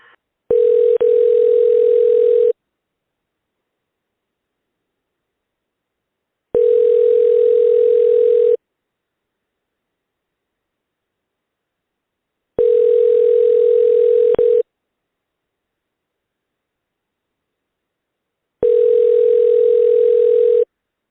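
Ringback tones on a telephone line while an office extension is called: four long buzzing rings, each about two seconds, spaced by roughly four seconds of silence, clear and alone.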